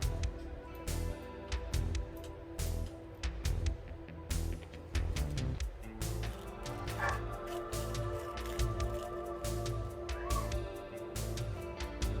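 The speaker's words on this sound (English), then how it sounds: "And the dogs are getting restless." Several restless dogs bark and whimper in a home where jars of dip powder nail colours are being sorted, with yips and whines scattered over a steady busy background at moderate distance.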